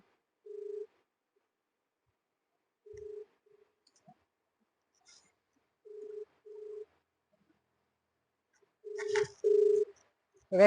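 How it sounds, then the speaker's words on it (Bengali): A phone ringback tone sounds in short, evenly spaced pulses every few seconds, faint against silence, with a brief burst of noise near the end. "রিং হচ্ছে, কলটা তুলছে না"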